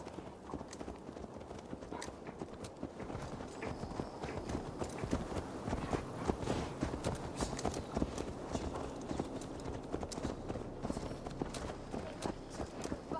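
Horse hooves in the video game Assassin's Creed Valhalla clip-clop in a steady walking rhythm, close and even, continuing for several seconds against a low ambient bed.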